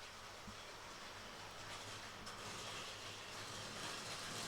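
A Hornby B12 model locomotive runs along a model railway layout, a faint, steady mechanical whirr and rolling hum with no distinct clicks, constant throughout.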